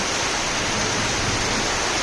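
Rain falls after intense heat, a dense, loud, continuous wash of broadband hiss with no gaps or voices.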